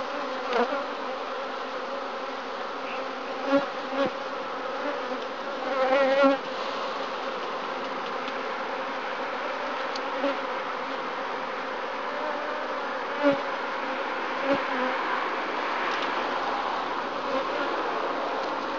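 Steady honeybee buzzing fills the clip during a WBC hive inspection, a dense droning hum from many bees close by, with occasional louder passes and soft knocks of frames as bees are shaken off.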